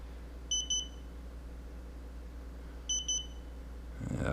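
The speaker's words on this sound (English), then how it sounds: "I don't know how to make it stop beeping like that" Two short bursts of rapid high-pitched electronic beeps from a smoker thermometer alarm, each a quick cluster of three or four tones, spaced a couple of seconds apart over quiet background.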